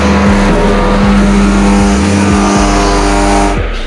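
A race car engine fitted with a new exhaust runs loud and close, holding a steady throbbing drone with brief dips and surges in revs.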